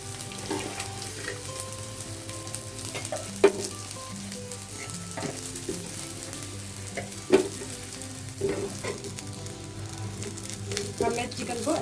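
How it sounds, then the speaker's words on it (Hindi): Chicken pieces for Chicken 65 are stirred and mixed in a pan, sizzling continuously and loudly, with periodic scraping and knocking of the spoon. Light background music sits underneath. "अब मैं चिकन को अच्छे से मिक्स कर ले रही हूँ इसमें।"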